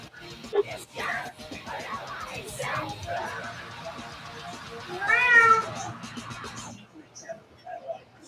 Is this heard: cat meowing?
yes